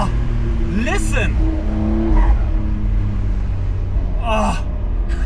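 A Porsche 992.2 Cabriolet accelerates in second gear on the Großglockner Pass with a loud, steady engine roar and rising tones, and a voice exclaims over it.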